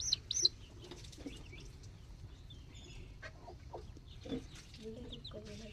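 Native country chickens cluck and chirp in short scattered bursts at a breeding setup, moderately close amid a faint low background rumble.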